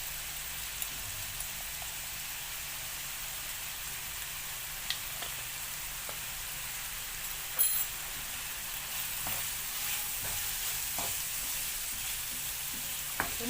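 Garlic sizzles and fries steadily in a pan with oil, a soft constant crackle broken by a few faint scrapes and clicks from stirring.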